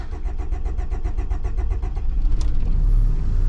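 A cold Honda Civic engine cranks with a steady rhythmic starter whir for about two seconds, then catches and settles into a loud, close idle.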